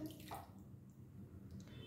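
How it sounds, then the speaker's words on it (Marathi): Water is poured into a pot of cooked toor dal seasoned with asafoetida and turmeric for methi varanfal. A faint, steady gush of running water plays, quiet and continuous. "याच्यात आता आपण पाणी घालतोय"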